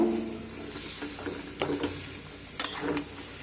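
Mashed potato is mixed into onions in a pan, with repeated scraping and tapping of a spoon against the metal and a light background hiss, in short irregular bursts.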